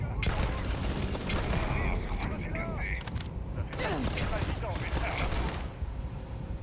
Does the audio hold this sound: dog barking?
no